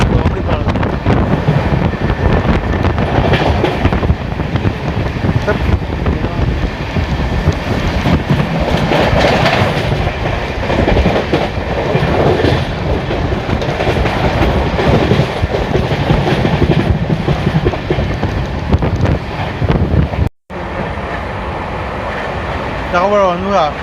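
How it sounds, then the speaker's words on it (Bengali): An Amrit Bharat Express train from Sealdah to Varanasi runs at full speed around 130 km/h, its loud continuous rumble and clattering wheels mixed with wind rushing past, with people talking over it and a brief dropout near the end. "অমৃতপথ এক্সপ্রেস ফুল স্পিডে আছে 130 kmph-এ।"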